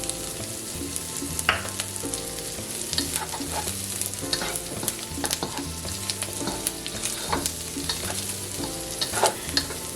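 Chopped green onions sizzling steadily in a hot pan for fried rice, with constant frying crackle and repeated scrapes and taps of a utensil stirring them, close and continuous throughout.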